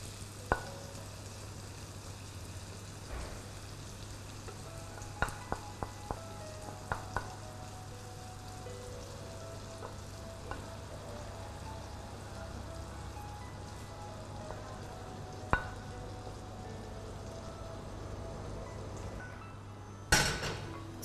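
Onion pieces frying in a pan with a steady, quiet sizzle, a low constant hum beneath, and occasional sharp clicks and taps of utensils throughout.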